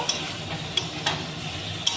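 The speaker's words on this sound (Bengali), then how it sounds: "একটু নাড়াচাড়া করে নেব।" A spoon stirs eel curry with fried tomato and onion in a pan, giving a few quick scraping strokes over a steady sizzle, close and alone.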